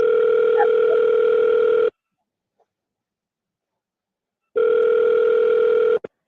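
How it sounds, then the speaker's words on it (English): A telephone ringback tone on an outgoing call plays as a loud steady tone, stops for about two and a half seconds, then sounds again and cuts off. "It's dialing. I'm assuming you guys can hear."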